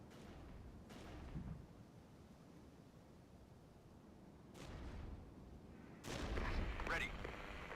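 Muffled mortar blasts from a Cold War strategy game, several dull booms with rumbling tails spread across the clip, the last one louder and closer, over a low background hiss.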